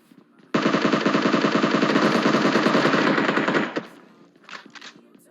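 M762 assault rifle firing in the mobile game PUBG Mobile, a loud, rapid sustained automatic burst lasting about three seconds, followed by a few scattered distant shots and clicks.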